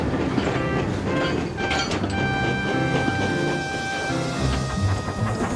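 A toy train engine pulls away along its tracks with a steady clickety-clack rolling beneath sustained whistle-like tones and music, holding an even loudness throughout.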